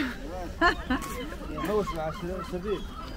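Seagulls call at a Moroccan fishing village port, where fish guts are fed to them, giving a series of short, nasal, wavering cries at middling distance. A voice is also faintly present.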